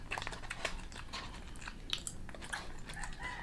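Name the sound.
biting and chewing crunchy food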